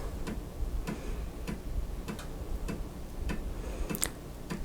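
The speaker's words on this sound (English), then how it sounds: "Then the floppy starts reading here." An Amiga 1000 floppy drive reading a disk ticks and clicks in a steady, evenly spaced rhythm, close and fairly quiet, with a slightly sharper double click near the end and no voices.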